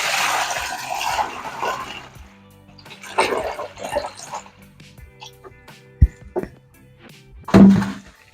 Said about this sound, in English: we're going to tip this water into a bucket